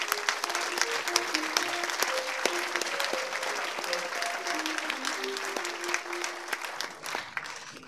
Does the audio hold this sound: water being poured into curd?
no